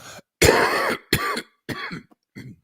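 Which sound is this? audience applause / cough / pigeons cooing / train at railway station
cough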